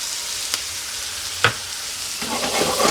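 Garlic and lemon juice sizzle loudly in a hot pan with chicken as the pieces are stirred, a constant bright frying hiss broken by a couple of brief scraping stirs.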